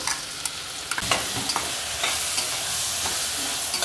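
Onion-tomato paste cooks in a pan with a dense, continuous sizzle, close and fairly loud, broken by a few sharp scrapes and taps of a spoon, with no voices.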